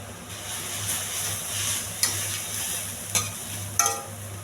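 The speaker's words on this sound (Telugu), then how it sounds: "ఈ తాలింపులో కొంచెం ఉప్పు, కారం బాగా కలిసేంత వరకు కలపాలి." Potatoes stirred through a hot tempering with salt, turmeric and chili, giving a steady low sizzle with a few sharp scrapes of the spoon against the pan.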